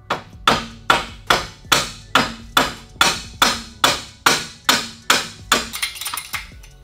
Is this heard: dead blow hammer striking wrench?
yes